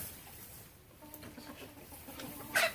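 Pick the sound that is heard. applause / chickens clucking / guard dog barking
chickens clucking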